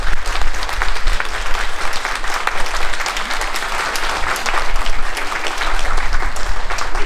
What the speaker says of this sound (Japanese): 改めまして受賞された皆様に盛大な拍手をお送りください。